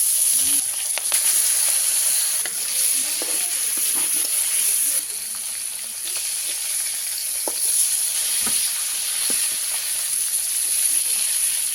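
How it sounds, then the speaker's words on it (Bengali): Tilapia fish fries in hot oil in a pan, giving a steady, loud, close sizzle and hiss with a few sharp crackles throughout. "তেল গরম হয়ে গেছে, মাছ দিয়ে দিব।"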